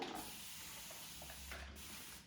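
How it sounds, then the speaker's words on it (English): A spray bottle mists water onto the top of a woman's hair during a short haircut, making a close, continuous hissing spray that lasts the whole moment. "just gonna mist that top"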